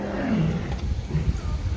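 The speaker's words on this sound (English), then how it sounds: "Oh no, that's the lion. That's the lion. That is not a recording." A lion at Dickerson Park Zoo gives deep, rumbling roars with low grunting pulses. The sound is moderately distant, with faint background voices.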